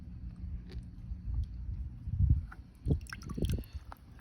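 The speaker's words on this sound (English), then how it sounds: "Put it in the water here to get the rest of the loose stuff off." Plant roots shaken gently in water to rinse off loose mulch-like chunks of wood and moss during hydroponics planting; soft squishy sloshes and drips, quiet and close, with a few louder splashy swirls and no talking.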